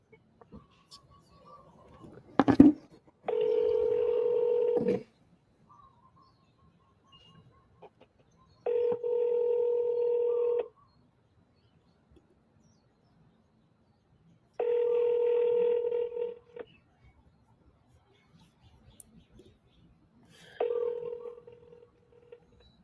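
An outgoing telephone call: a short burst of dialing followed by three evenly spaced ringback tones, each about two seconds long with long silent gaps between them, clear and alone with no talking.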